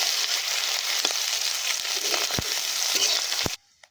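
Ginger and garlic frying in oil with potatoes in an outdoor pan, a steady, close sizzle with occasional scraping stir strokes, cutting off abruptly near the end.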